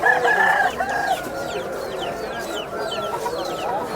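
Several chickens cluck and a rooster crows amid a busy, crowded outdoor din during Ramadan, with voices chattering in the background.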